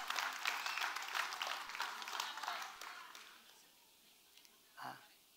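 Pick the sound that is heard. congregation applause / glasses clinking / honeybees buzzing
congregation applause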